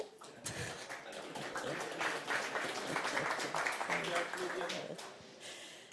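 Audience applause at a hacker conference talk about parliament, steady dense clapping from a crowd filling the room for several seconds, fairly loud and close, with a voice speaking over it.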